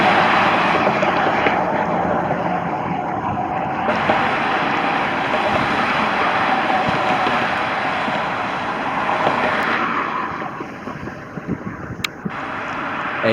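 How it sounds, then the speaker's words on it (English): Floodwater on a churning river in Liberty, Texas, surges against a railroad bridge and its tracks. The rushing roar is steady, loud and close, mixed with wind buffeting the microphone. "As you can see, the river is really churning."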